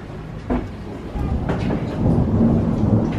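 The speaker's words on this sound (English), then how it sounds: "thunder and lightning" Thunder rumbles through a stormy evening, a low rolling boom swelling and lingering for a few seconds with heavier, sustained rumble toward the end, heard indoors at moderate distance.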